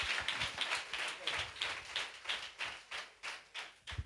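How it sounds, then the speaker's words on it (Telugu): A church congregation at an evening fasting prayer meeting claps hands in a fairly regular rhythm, roughly three claps a second, the claps moderately loud and a little reverberant, with no voices over them. "ఒకసారి అందరు గట్టిగా చప్పట్లు కొట్టి దేవునికి స్తోత్రాలు చెల్లిద్దాం"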